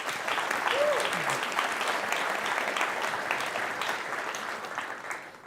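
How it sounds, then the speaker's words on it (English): Audience applause after a conference panel, sustained clapping at moderate distance that slowly fades, with a brief voice heard early on. "So one more round of applause, please,"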